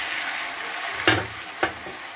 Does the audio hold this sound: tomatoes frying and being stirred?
yes